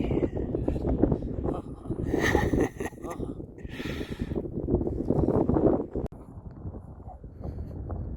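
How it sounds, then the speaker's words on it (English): Strong wind buffets the microphone in open high country, a loud continuous roar with gusty surges and brief rustling bursts, no voices. "wind is blowing way too hard"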